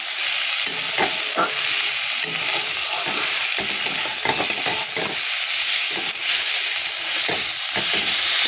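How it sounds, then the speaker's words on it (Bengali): Snake gourd frying in a pan and being stirred, giving a steady close hiss of oil with repeated scraping and stirring strokes throughout, no talking. "আর চিচিঙ্গা ভাজাটা আমার হয়ে গেছে এখানে দেখো"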